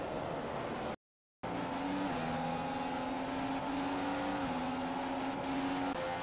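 A Formula One car in a Monza racing video game drones on a steady engine note along the straight, with a short dropout of sound early on and no voices.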